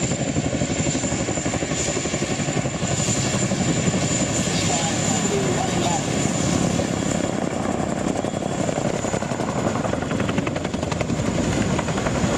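A model Chinook helicopter flies nearby, its twin rotors producing a steady, loud, dense chopping thrum with a high whine throughout, under faint talk.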